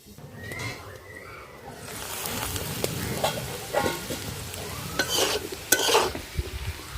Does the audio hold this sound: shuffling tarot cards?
no